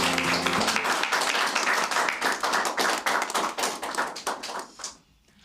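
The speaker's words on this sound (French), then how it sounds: "Donc, applaudissez pour vous-même." Candidates at a Miss Universe DRC gathering clap for themselves, a lively burst of close hand claps that thins into scattered individual claps and stops abruptly.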